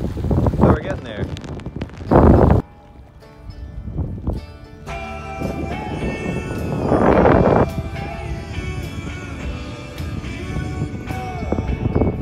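Wind gusting outdoors while canoeing on the French River, buffeting the microphone in loud rumbling bursts, with a person talking between gusts.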